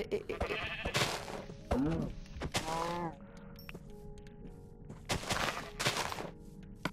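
Sheep in a survival video game bleat several times in short, close calls, spread among sharp clicks and thuds from play.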